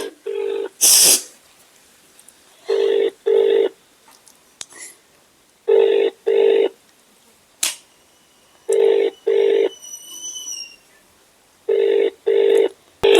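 Telephone ring tone on an unanswered call, sounding in regular paired bursts with short gaps, repeated several times and fairly loud and close, with brief clicks and faint beeps between rings and no talk.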